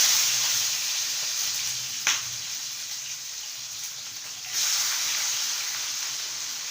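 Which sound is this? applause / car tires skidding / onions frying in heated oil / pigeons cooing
onions frying in heated oil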